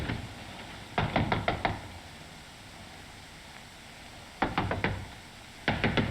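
Sharp knocking on a wall comes in three quick bursts of several raps each, separated by pauses, against a steady hiss in a 1961 British drama scene.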